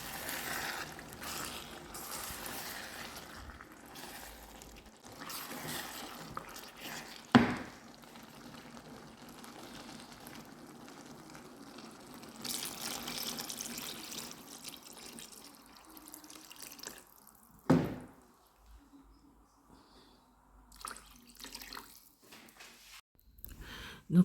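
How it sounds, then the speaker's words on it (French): A litre of water being poured and stirred into a peanut butter sauce, soft wet sloshing and mixing, quiet and close, punctuated by a few sharp knocks of the utensil against the pot. "je viens de rajouter 1 litre d'eau et je mélange encore"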